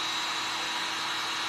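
A dryer blows a loud, steady, even whoosh to dry the paint on a pumpkin jar, with no pauses and no talk.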